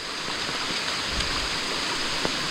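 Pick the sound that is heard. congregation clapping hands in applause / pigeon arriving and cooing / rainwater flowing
rainwater flowing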